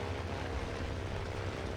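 A propeller aircraft engine drones overhead during a War Thunder match, a steady loud buzzing hum with no break, heard alone without talk.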